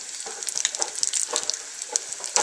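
Food sizzling and crackling in hot fat with onion, scrunchions and seasoning, a busy stream of close, bright pops and spits running throughout with no talk.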